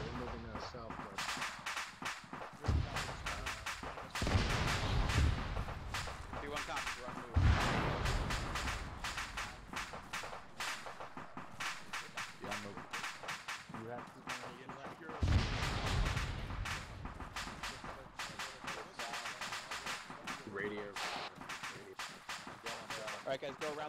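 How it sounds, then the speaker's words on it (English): Gunfire in the military shooter Arma 3 during a convoy ambush, with repeated sharp shots and bursts crackling steadily from the south at a distance, under ongoing radio-style talk among players. "Shots to the south."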